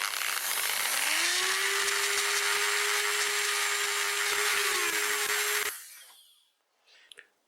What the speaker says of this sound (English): I upgraded to a rougher brush, and I almost got most of the rotten, rusty cast iron thread out of there.